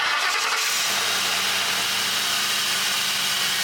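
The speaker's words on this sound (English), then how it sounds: "Start the engine and let it run for 15 minutes without the cap." A 2004 Mercury Grand Marquis engine cranks and catches after a radiator replacement, then settles into a steady, loud, close idle that continues alone to the end.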